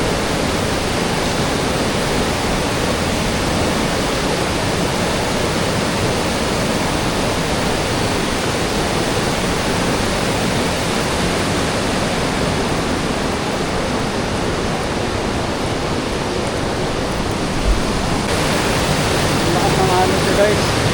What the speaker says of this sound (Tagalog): Malakas yung alon sir.